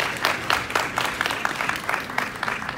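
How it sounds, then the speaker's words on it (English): Audience clapping for graduates at a graduation ceremony, a dense, lively round of applause with quick rhythmic claps, loud and continuous from start to end. "Can we have a huge round of applause for them?"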